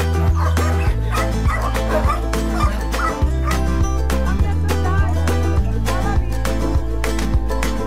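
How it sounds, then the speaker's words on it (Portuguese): Several adopted and ranch-born mixed-breed dogs on a rural ranch bark and yip repeatedly at close range in a busy, overlapping chorus with occasional whimpers, while fowl call faintly in the background. "são todos cachorros vira-latas"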